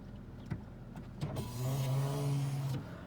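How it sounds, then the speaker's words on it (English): The power rear sliding window of a 2017 Toyota Tacoma pickup runs with a steady motor whine for over a second inside the quiet cab, preceded by a couple of soft clicks. "Rear sliding window."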